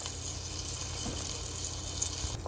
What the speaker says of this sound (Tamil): இப்போ கொதிச்சுட்டு வருது.